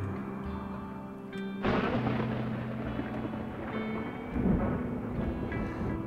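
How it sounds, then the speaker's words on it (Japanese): A sudden loud crack of thunder breaks over a game soundtrack in RimWorld, then rolls into a long rumbling thunderstorm with rain, with another swell of rumble near the end, heard with no talking. "ものすごい量の雷が"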